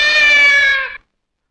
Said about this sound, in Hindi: तुम मुझे म्याऊं म्याऊं किए जा रही हो